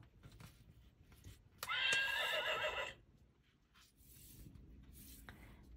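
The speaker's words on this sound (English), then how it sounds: "Can you neigh like a horse?" A single horse whinny, loud and close, lasting about a second amid quiet background rustling.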